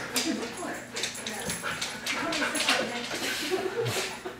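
A dog confined indoors near a cat whimpers and gives short yips and barks in bursts, close by, mixed with a person talking in the room.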